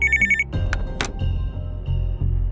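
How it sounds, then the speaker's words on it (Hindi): A brief electronic ring from a desk telephone in a police station trills at the start, then cuts off into low rumbling room noise and a few clunks. "तभी अचानक टेबल पर रखे फोन की घंटी बजी।"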